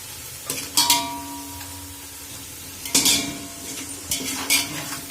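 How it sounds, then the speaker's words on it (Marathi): Onions fry over high heat for chicken biryani, a steady background sizzle punctuated by three or four bursts of metal spatula scraping against the pan. "कांदा तळून घेऊया फास्ट गॅसवर। चांगला लाल होऊस तोपर्यंत आपण तळून घेऊया कांदा।"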